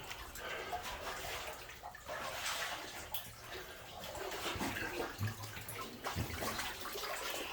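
Water splashing and trickling steadily inside a flooded 1870s mine, a continuous watery wash with scattered drips and brief faint voices in the background.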